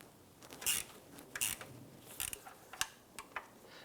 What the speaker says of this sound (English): switch over to our 1/4" drive ratchet with the swivel to go ahead and snug these bolts down